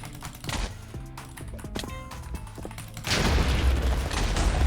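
A Minecraft explosion on the Donut SMP server: clicky game sounds and tones give way to a loud, sustained booming blast with rumbling debris that continues to the end.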